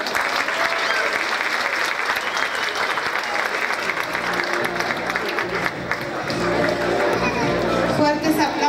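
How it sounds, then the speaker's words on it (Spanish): An audience at a Guatemalan princess pageant evening applauds loudly and steadily for the whole stretch, with crowd murmur mixed in and a voice emerging faintly toward the end. "Fuertes aplausos para la señorita"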